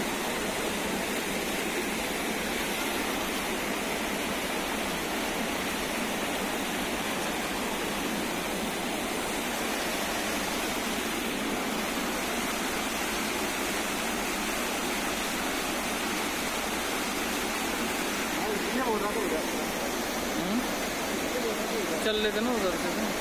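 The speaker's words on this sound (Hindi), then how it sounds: "दूसरी तरफ जटाशंकर धाम का ये झरना प्रभु के चरणों में जल का समर्पण करने के लिए गर्भगृह तक उतर आया है।" A waterfall at Jatashankar Dham temple flows down into the sanctum, making a steady, broad rushing roar that stays constant throughout, with a hint of movement near the end.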